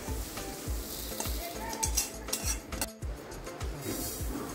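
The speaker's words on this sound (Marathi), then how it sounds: "अर्धा पळी तेल टाकून धने भाजून घेऊया." Coriander seeds roast in about half a ladle of oil in a pan, with a steady sizzle and regular metallic scrapes of a spoon stirring against the pan, close and clear.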